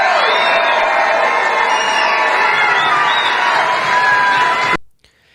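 A large crowd at a Trump rally cheers and shouts loudly and continuously, whoops rising over the roar, before it cuts off abruptly near the end.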